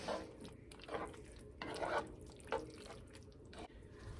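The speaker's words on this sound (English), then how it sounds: "I'm just going to stir that all together." Creamy mushroom pasta with Pecorino Romano being stirred together in a pan, giving soft, irregular wet scraping and squelching strokes at close range, quiet, with no talking.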